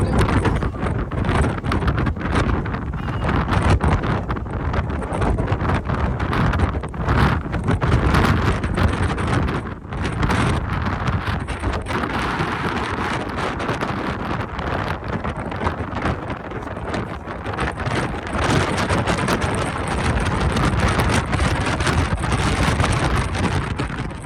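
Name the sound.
wind on a ship's deck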